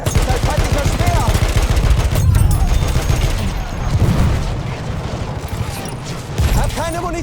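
A World War I battle in Battlefield 1 at Argonne Forest crackles with dense, continuous gunfire and heavy blasts around a thrown grenade, loud and close, with voices shouting beneath the din.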